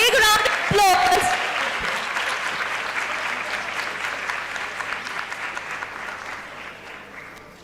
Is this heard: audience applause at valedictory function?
yes